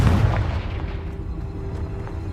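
A Confringo fire spell bursts in Hogwarts Legacy, a loud low boom at the start that rolls off into a rumbling fade with faint crackles, no voices present.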